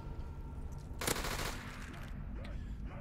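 Lynx gun firing in Black Ops 3 Zombies on a Teletubbies-themed map, a short bright burst of gunfire near the middle over a continuous game background.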